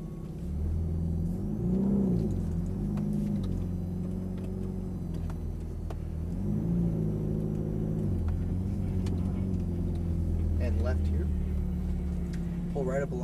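A Ferrari F430 engine rumbles and revs as the car pulls away slowly, its pitch rising and falling over a steady low drone, with an instructor talking over it.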